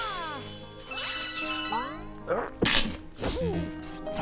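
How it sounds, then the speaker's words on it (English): A person sneezes sharply, once or twice, close to the microphone while bright chiming and tinkling effects from Super Mario Galaxy gameplay play around it. "I don't know why I'm sneezing so much."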